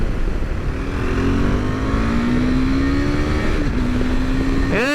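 A KTM 390 Adventure motorcycle revs while riding, its engine note rising steadily through the gears with a brief dip and climb near the end, under constant wind rush.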